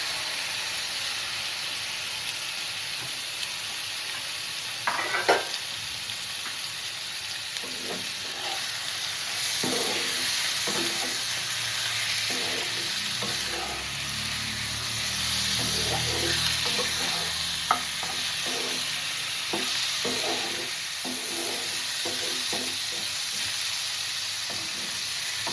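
Marinated chicken pieces hitting hot oil in a pan and frying with a loud, steady hissing sizzle, broken by repeated spatula scrapes and taps as the pieces are stirred, close up and with no speech.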